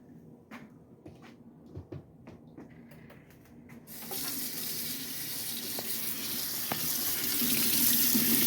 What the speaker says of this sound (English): So now what I'm going to do is take these over to the sink